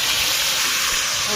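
Marinated chicken hitting hot oil for a biryani, a loud, dense sizzling hiss that holds steady and close throughout the short moment.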